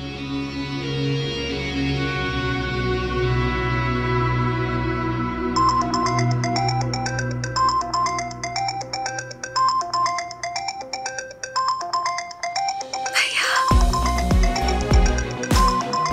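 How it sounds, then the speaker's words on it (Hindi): A phone ringtone plays a loud, repeating electronic melody over a low background tone, with a sharp change in texture near the end as the ringing continues alone. "अरे आप फोन तो उठाइए।"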